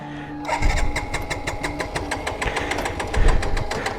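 Suzuki Gixxer motorcycle engine, out of fuel, cranking and trying to start: a steady rapid chugging starter rhythm for several seconds, fairly loud and close, with no talk.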